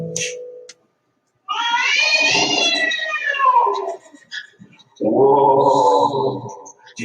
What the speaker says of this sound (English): Did you hear that? A black cat and a scary bat.